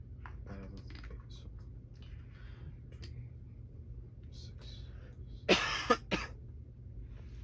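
Two sharp coughs burst out near the end over a quiet low hum, after some faint soft murmuring and light clicks.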